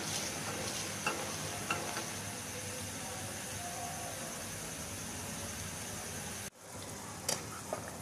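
Rasgulla simmering in sugar syrup in a pot on the stove gives a steady bubbling sizzle with a few light clinks, continuous throughout, cut briefly near the end, with no talking.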